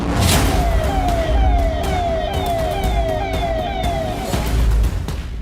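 An ambulance siren wails loud and close, its rising and falling tone repeating steadily over heavy traffic rumble.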